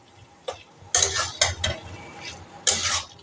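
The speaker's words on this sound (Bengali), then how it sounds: "এটা এবার খুব সুন্দর করে মিশিয়ে দেব সব কিছুর সঙ্গে" A shrimp and banana stem curry being stirred and mixed in a pan, with a few loud scraping sweeps of a utensil over a low background sizzle, near and without talk.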